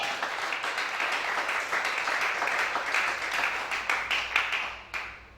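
A church congregation at a 2020 worship service in Gabon applauds with steady, dense clapping from many hands. The sound fills the room, holds for several seconds, then thins out at the end.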